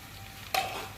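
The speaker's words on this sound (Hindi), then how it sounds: "अब हम इसमें डालेंगे प्याज।" Onions drop into hot oil with ginger and garlic for chicken zarda biryani, giving a sudden loud sizzle that settles into a steady close frying hiss.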